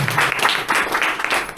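An audience at a Sunday business meeting gives steady, close applause that keeps going without a break through the short stretch.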